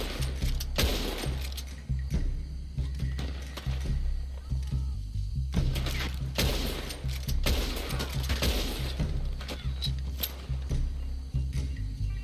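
Gunfire from a Red Dead Redemption 2 shootout, a dense spread of sharp broadband cracks clustered in bursts, strongest near the start, around five to six seconds and again toward ten seconds, with talk running underneath.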